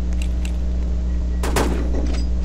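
Gunfire from the ultimate gun in a shooting video game, with faint shots early on and then a loud burst of shots over a steady game hum.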